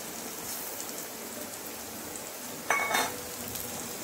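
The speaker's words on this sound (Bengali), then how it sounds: "এটা হচ্ছে কালো জিরে, আমি দিয়ে দেবো তেলের মধ্যে একটু কালো জিরে।" Black cumin (nigella seeds) sizzle in hot oil as a steady, hissing frying noise, with a brief louder crackle and spatter burst near the end as the seeds hit the pan.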